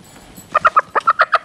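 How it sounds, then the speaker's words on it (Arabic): Chicken clucking close by, a quick run of about eight sharp, evenly spaced clucks after a brief quiet start. "روح اذبح الفروج."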